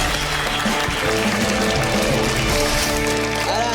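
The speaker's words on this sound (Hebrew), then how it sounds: "קבלו אותו במחיאות כפיים, מורן קל!" Loud crowd applause and cheering at a live stand-up comedy show, dense continuous clapping that rolls on steadily with a busy room wash.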